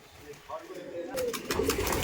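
Giribaz pigeons coo in a large loft, soft murmuring calls under a low room hum, growing busier and more layered in the second half.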